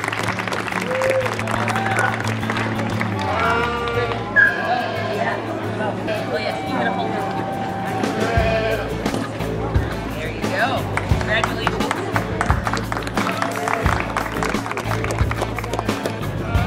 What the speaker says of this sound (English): We're going to get a round of applause for this most beautiful lamb and showman.